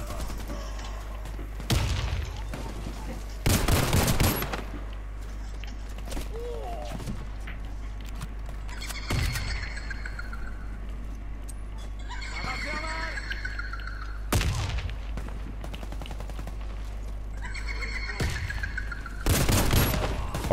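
Gunfire in a multiplayer shooting video game: several loud sharp bursts of shots spaced through the clip over a low game hum, with players chatting over it.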